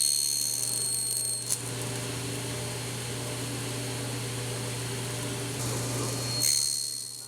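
A power saw on a sled cuts kumiko wood strips partway through, running as a steady whining hum with brief sharper bursts as the blade meets the wood, fairly quiet and with no talk.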